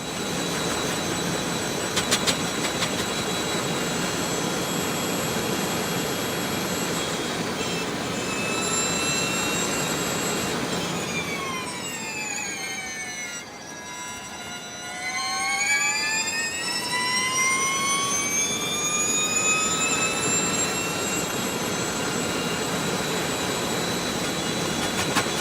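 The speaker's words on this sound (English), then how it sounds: "Porsche 919 Hybrid Evo." A Porsche 919 Hybrid Evo race car lapping the Nürburgring, its engine a loud, continuous high-pitched howl that dips and swoops down midway, then climbs steadily again as it accelerates, with no voices.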